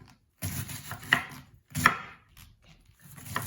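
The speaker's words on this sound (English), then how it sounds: "Now I'm just chopping it again." Knife chopping cabbage on a cutting board while making sauerkraut, a run of close, quick, uneven chops separated by short pauses, with no voices.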